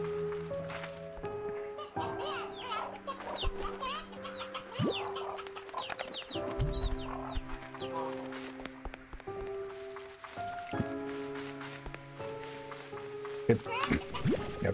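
Rooster clucks and crows from the Slime Rancher 2 video game, bird calls repeating over busy game music and effects throughout, with a voice talking over parts of it.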